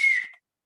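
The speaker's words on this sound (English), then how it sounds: "he could blow his whistle and men would come running." A boatswain's whistle gives one short, shrill, steady tone that fades out after a fraction of a second, close and alone.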